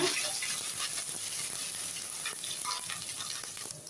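Finely chopped ginger and garlic sizzle in hot oil in a pan, a steady close crackling fry with faint stirring, no talk.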